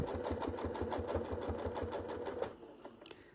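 Sewing machine running steadily during free-motion quilting, a fast, even mechanical stitching rhythm, close and continuous, that stops near the end with a faint click.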